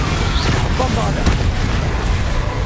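A Bombarda spell blast in the video game Hogwarts Legacy, a loud low boom with crackling debris amid ongoing combat noise, close and forceful.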